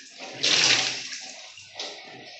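Water poured from a container over a body during Islamic corpse washing, splashing in a loud central burst that fades and then a smaller second pour, close by with no talk.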